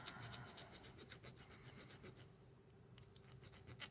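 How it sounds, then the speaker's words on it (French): A metal file rasping across a freshly cast lead jig head, a quick run of faint, rhythmic scraping strokes heard up close. "Un petit coup de lime."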